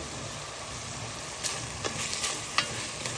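Turkey and other ingredients for a creamy pasta fry in a pan, giving a steady, fairly quiet sizzle with a few sharper crackles and stirring clicks near the end and no talking.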